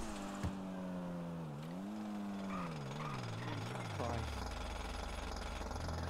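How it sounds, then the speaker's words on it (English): Drilling into a floor in the GTA 5 video game, a loud rattling power-drill whine that sweeps downward and grinds continuously for several seconds, with game voices faintly mixed underneath. "you see a lump in the floor with purple cracks and you decide to drill"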